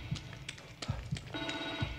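A telephone rings in the video game The Evil Within 2, with repeated short ring bursts followed by a sustained electronic tone, fairly quiet against a low background.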